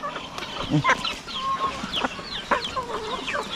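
Chickens cluck in a rural backyard near grassy brush, several short clucks and squawks scattered at close range with a faint murmur behind them.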